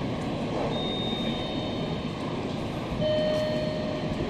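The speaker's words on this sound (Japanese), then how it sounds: "4番乗り場に電車が参ります。" A steady, rumbling electric train noise with a faint high whine as a Kintetsu 9820 series local train arrives at platform 4 of Ikoma Station, holding at an even level throughout and swelling slightly toward the end.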